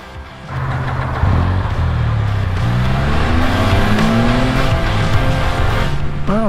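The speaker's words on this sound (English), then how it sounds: "Very noisy road right here" Traffic on a busy, noisy road: a loud, steady roar of cars passing close by, with engine drone swelling and fading and some tire noise, no talk.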